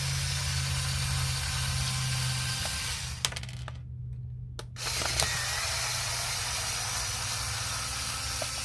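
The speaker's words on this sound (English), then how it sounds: "let's start by taking the 3 screws out of the back of the controller." Screws being backed out of the rear of an Atari 5200 game controller with a screwdriver, close up: a quiet mechanical ticking and a few sharp clicks over a steady low hum, with no talking.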